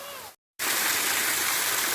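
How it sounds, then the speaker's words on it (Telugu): Water falls and gushes at the Gandimaisamma temple in Gandipet, a loud, continuous rushing roar that begins abruptly after a brief moment of silence. "అసలు ఈ ఎండాకాలంలో సలసల్లగా నీళ్ళు పడతా ఉంటే"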